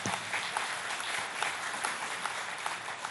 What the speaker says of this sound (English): Can we have a round of applause for Sadhguru?